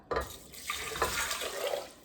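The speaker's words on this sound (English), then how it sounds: "Then we put the rice into the saucepan and the water" Water runs and splashes into a saucepan holding rice for about two seconds, close and moderately loud, with a brief clunk at the start.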